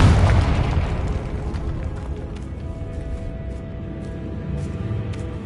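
A Confringo spell from Hogwarts Legacy explodes with a loud, close booming burst at the start, followed by a long rumbling decay under faint game ambience.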